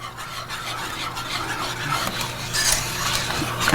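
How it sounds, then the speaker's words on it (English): A Parmesan cheese sauce is stirred in a pot, giving a continuous close rubbing, scraping sound that grows a little louder toward the end, without any talking. "I want it all to melt."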